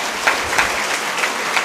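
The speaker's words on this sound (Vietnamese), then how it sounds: "Cho một tràng pháo tay để nhất quyết điều đó" Applause from a church congregation during a Vietnamese Advent homily, a brief, steady patter of many hands clapping that fills the room with a soft, even wash of noise.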